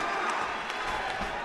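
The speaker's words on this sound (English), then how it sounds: "The crowd is absolutely on their feet," A wrestling event crowd roaring on their feet, a dense continuous wall of cheering and noise at steady loudness for a brief moment.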